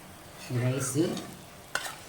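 An eggplant rice mixture is stirred in a pan just after the gas is switched off and coriander is added. A scraping, squeaky stir lasts about a second, then a short clatter follows, with no talk.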